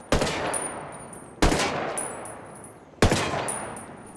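ACR assault rifle in Ghost Recon Wildlands firing at a vehicle: three loud, evenly spaced shots, each with a long ringing decay, heard alone.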